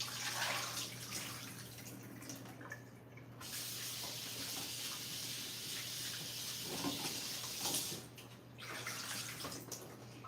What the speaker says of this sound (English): We're going to rinse these off.